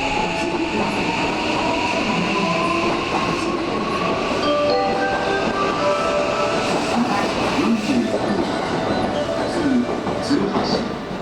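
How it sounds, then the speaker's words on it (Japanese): A JR Osaka Loop Line 323 series train pulls into a station platform with rumbling wheels, clicking over rail joints and faint squeals, loud and close, while a platform announcement plays over it. "12番乗り場に列車が参ります。"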